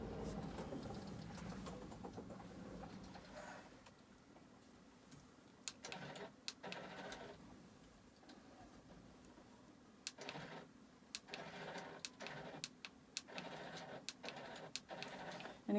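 Longarm quilting machine running a long basting stitch down a quilt, a faint mechanical whir with intermittent clicks and short bursts, distant and steady with no talk.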